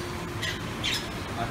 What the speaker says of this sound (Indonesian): ada burung.